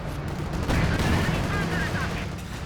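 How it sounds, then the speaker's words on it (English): A tank gun fires in the World War II strategy game Company of Heroes 2, a loud booming blast amid rumbling battle noise and crackling gunfire. "one hell of a shot there from the gun"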